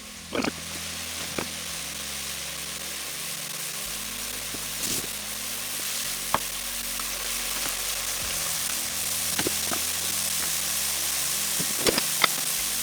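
Potato chips frying in hot oil for a second crisping fry after blanching, with a continuous dense bubbling sizzle and a few sharp clinks and taps, close and steady with no talk.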